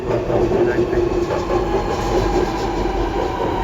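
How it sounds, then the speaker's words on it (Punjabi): A Sydney Metro train rumbles steadily into a station through the whole stretch, a continuous low mechanical roar with faint clatter, loud and close with no clear talk. "ਉਧਰੋਂ ਦੂਜੀ ਮੈਟਰੋ ਆ ਗਈ ਹੈ"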